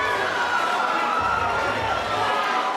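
A noisy fight-night crowd at a Beatdown Promotions bout fills the space with a steady wash of cheering and chatter, loud and continuous with no single standout voice.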